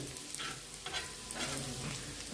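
Onions frying in a pan for egg masala, a soft, steady sizzle with occasional stirring scrapes, faint and close, with no voices.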